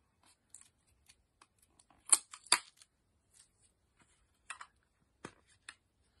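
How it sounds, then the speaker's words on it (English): Tape is peeled off a new makeup palette in short, quiet crackling tears and small ticks, with a louder burst of crinkling in the middle against a very quiet background. "I always hate it when they put tape on new palettes because I can never get it off."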